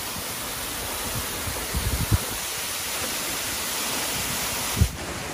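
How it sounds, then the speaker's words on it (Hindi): Strong, cold wind roars steadily at the Lamo waterfall near Muglin, Nepal, mixing with the constant hiss of falling water and a few brief gusts buffeting the microphone. "पानी की बूंदों के साथ ही बहुत ही तेज हवा भी चल रही है यहाँ पर"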